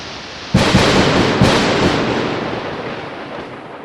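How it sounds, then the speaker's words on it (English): A loud, sharp thunder crack hits suddenly, followed by a second boom and a long rumbling roll that slowly fades. "now that we added this lightning effect, I think now it's time to add some sound"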